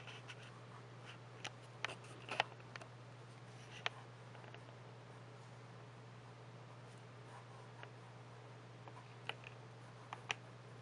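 A fine-nib Benu Sublime Minima fountain pen writes on paper, giving faint, sparse scratches and small ticks over a quiet steady hum, with no talk.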